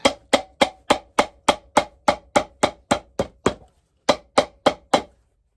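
Sharp, evenly spaced hammer blows strike a shoe sole about a dozen times, a short pause, then four more quick taps.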